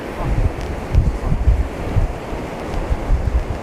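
Strong wind buffets the microphone as sea waves roll and crash on Bognor Regis beach, a loud, continuous roar with gusty surges throughout.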